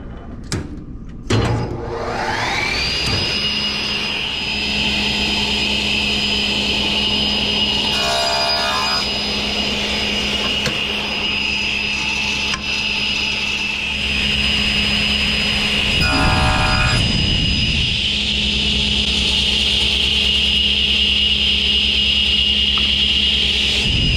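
A woodworking machine spins up and runs steadily with a high whine while a wooden face frame stile is fed through it, with a couple of brief cutting bursts rising over the constant motor drone.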